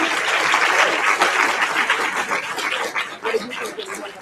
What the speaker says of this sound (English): Let me get another round of applause for Rabia.